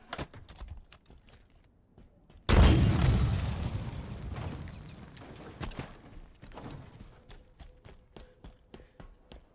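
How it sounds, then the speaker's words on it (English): A rocket launcher fires in Halo Infinite with one sudden loud blast that rolls off into a long decaying rumble, followed by scattered faint game clicks and taps. "Rocket launcher."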